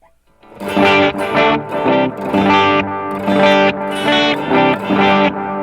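An electric guitar plays sustained chords through a Boss GX-10 delay effect set to dotted eighth note repeats, each strum echoing in rhythmic repeats that blend into a wash of sound.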